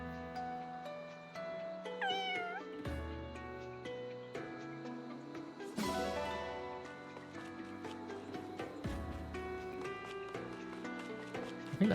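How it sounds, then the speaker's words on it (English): A cat meows repeatedly in the video game Fire Emblem Engage, the short calls sitting over steady game music and soft chiming effects throughout. "I'll also adopt a random cat."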